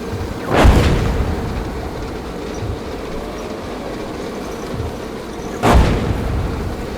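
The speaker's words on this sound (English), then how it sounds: "incoming enemy artillery." Incoming enemy artillery in the tank game GHPC: two heavy booming impacts, one near the start and another about five seconds later, over a steady low rumble, with no talk.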